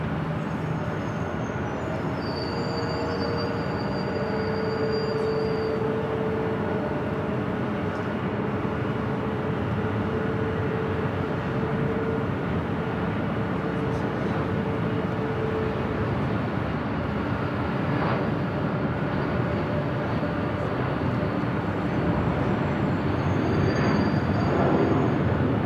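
JetBlue Airbus A320 airliner arriving at Los Angeles International Airport, heard as a steady, moderately distant jet roar that holds for the whole span with faint whines rising over the broad rumble.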